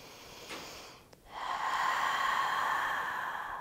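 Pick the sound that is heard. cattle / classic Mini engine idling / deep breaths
deep breaths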